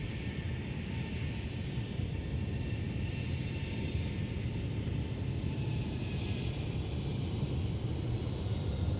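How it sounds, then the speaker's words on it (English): A Delta Airbus A330-300 taking off for Paris Charles de Gaulle, heard as a steady, broad jet roar with deep rumble that holds constant and loud throughout, with no talk over it. "Here's our departure to Paris, Charles de Gaulle with the 330-300."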